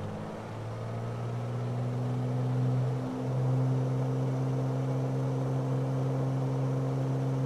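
Single-engine propeller aircraft at full throttle in a flight simulator, a steady loud droning hum with a dip near three seconds, then holding constant with no talking.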